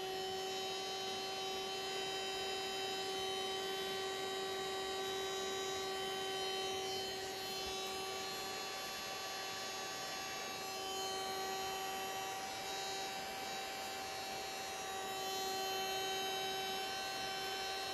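A small electric barbecue fan blower runs steadily nearby, producing a constant whirring hum with a strong, unchanging tonal whine throughout and no talking.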